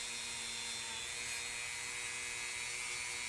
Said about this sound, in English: About 6 on the Dremel tool.